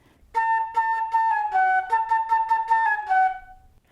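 A flute plays one measure of a song: about a dozen short, clear, detached notes in a quick steady rhythm, solo and close, with no talking over it.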